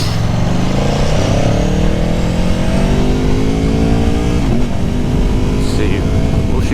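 A 2019 Aprilia Tuono Factory motorcycle pulling hard in second gear, its engine note climbing steadily and loudly as it accelerates, with a rider talking over the wind noise.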